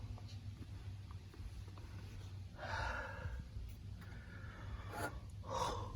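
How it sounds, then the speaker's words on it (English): A person yawns twice, soft drawn-out breathy swells close to the microphone, over a faint steady background hum in a workshop. "I'm tired of yawning into the camera"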